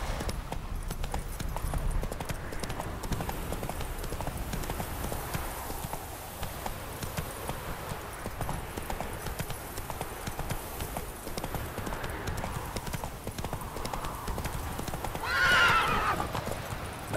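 The horse Roach from The Witcher 3 gallops with a steady, rhythmic clip-clop of hooves and lets out a loud whinny near the end, with faint background game sound.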